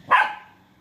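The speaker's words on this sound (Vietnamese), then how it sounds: "Thì gặp hai con chó săn này của nhà mình á" One hunting dog lets out a single sharp, loud bark close by while out catching a snake beneath a papaya tree.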